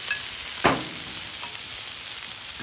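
A filet sizzles steadily on a hot griddle, with one brief sharp spatter and no talking.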